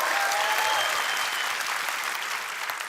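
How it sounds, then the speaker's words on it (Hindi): Studio audience clapping on a TV comedy show, a dense, steady burst of applause with faint crowd cheering mixed in, continuous and loud throughout. "तालियों की गड़गड़ाहट होती है"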